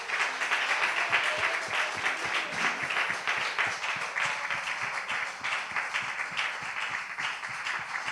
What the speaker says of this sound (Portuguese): a dar uma forte salva de palmas ao Senhor